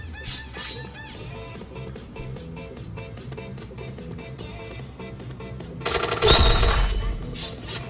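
Rapid automatic gunfire in a shooting video game, rattling continuously throughout, then a louder, denser burst of shots and an explosion-like blast near the end.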